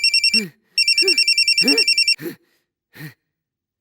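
A telephone rings in a Hindi action film scene, two long trilling bursts of electronic ringing that come up loud and close, with a man's breathy gasps and short vocal sounds between and after the rings.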